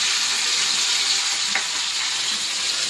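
Potatoes fry in oil in a home kitchen pan, a steady bright sizzle that holds at an even level throughout, with a faint stirring scrape midway and no talking.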